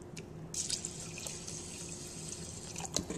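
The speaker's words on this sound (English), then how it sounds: "I should put water up to this marker right here." Water runs from a tap into a rice cooker pot holding four cups of sushi rice, a steady close splashing stream with a few brighter spatters and drips, no voices.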